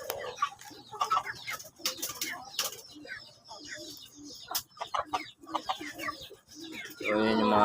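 Backyard chickens, Chinese Silkies and Asil among them, cluck in scattered bursts with occasional wing flaps, and a voice talks intermittently over them.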